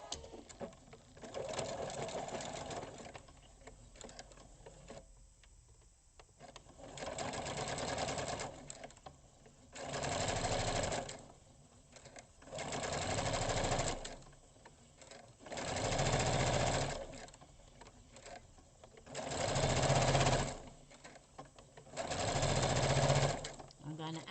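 Sewing machine stitching along the folded edge of fabric for a tied pocket, running in repeated bursts of steady whirring a few seconds long, separated by short pauses, with quiet talk at times between the runs.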